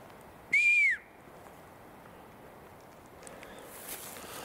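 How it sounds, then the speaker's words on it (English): A single clear whistle, rising then gliding down in a smooth arc, sounds once outdoors near the top of a wooded spot, lasting about half a second, then fades into faint background rustle. "I got a perfect whistle."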